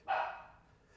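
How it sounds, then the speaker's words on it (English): A single sharp dog bark, close and fairly loud, fading quickly into quiet. "That's my dog yelling."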